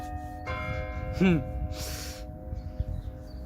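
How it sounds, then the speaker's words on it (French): Church bells ring on and on with steady, sustained tones outdoors, and a voice briefly sounds over them. "le temps que les cloches arrêtent de sonner"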